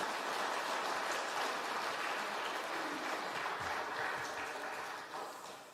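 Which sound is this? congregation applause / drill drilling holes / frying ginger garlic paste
congregation applause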